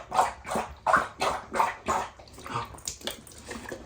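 A golden retriever laps water in quick rhythmic splashes, about ten close wet laps that gradually soften toward the end.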